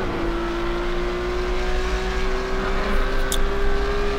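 A Porsche Cup race car in iRacing sweeps through the Porsche curves at Le Mans, its engine a loud, sustained single note that climbs slowly in pitch as it pulls hard, alone with no voices.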